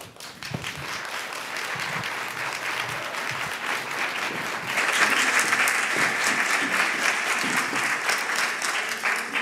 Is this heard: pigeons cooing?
no